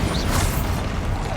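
A Bombarda spell blast in Hogwarts Legacy bursts out with a loud, crashing boom and whoosh, followed by a rumbling debris tail during a fight with a troll.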